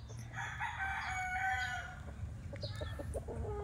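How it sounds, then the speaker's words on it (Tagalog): Gamecock roosters on a Batangas farm crow repeatedly in long drawn-out calls, with clucking and other fowl noises between them, all against steady outdoor background sound. "So, puro manok."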